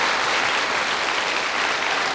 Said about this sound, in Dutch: Geweldig! Applaus, applaus,